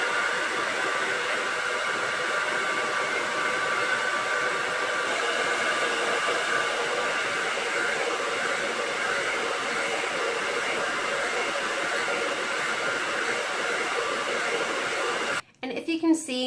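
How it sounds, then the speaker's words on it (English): A hair dryer blows hair dry with a steady, continuous whooshing roar that holds level throughout, ending with a brief bump of handling. "All right, so I'm just gonna do a quick blow dry right now."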